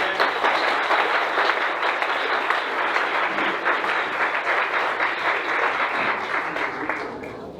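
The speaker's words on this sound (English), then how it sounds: "A round of applause, please." A forum audience in Chinatown breaks into sustained applause, with dense, even clapping from a crowd that stays loud throughout and fades slightly at the close.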